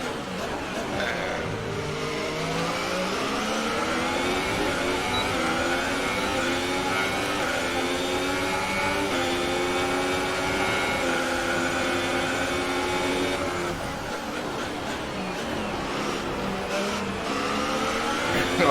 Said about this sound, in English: I can hear my engine rattling around